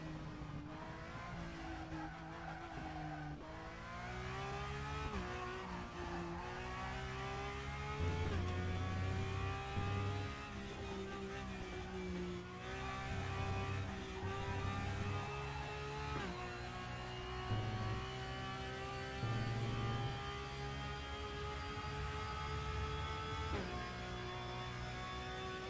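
Porsche Cup race car in Assetto Corsa Competizione, its engine loud and continuous with rising and falling revs through repeated upshifts and downshifts, tire squeal and skidding mixed in, no talk.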